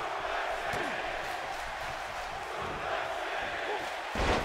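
A steady, roaring arena crowd at SummerSlam in Brooklyn in the video game WWE 2K18 holds a constant wash of noise, with a louder burst near the end.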